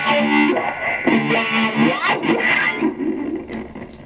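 An electric guitar played through a Line 6 Floor Pod multi-effects unit with tremolo and echo, giving pulsing, throbbing chords with trailing repeats, loud and alone.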